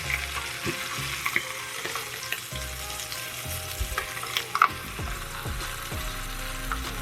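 Snapper fillets pan fry in hot oil with a strong continuous sizzle, broken by repeated clatters and scrapes of a spatula or pan shifting close by.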